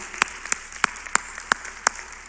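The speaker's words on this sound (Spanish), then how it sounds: "Denle otro fuerte aplauso al Señor." A church congregation claps in a steady rhythmic beat, sharp evenly spaced claps about three per second, with no talking.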